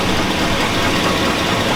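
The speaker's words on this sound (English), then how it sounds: "She hasn't knocked that loud for quite a while, so she's getting worse when you redline it." A 2002 Chevy Avalanche with a 5.3L V8 and a knocking fault runs loud and steady with a dense, continuous mechanical clatter that fills the clip, close by and with no talking.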